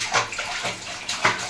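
A young child splashes and plays with water in a bathtub, producing short, close sloshing bursts at an irregular rhythm.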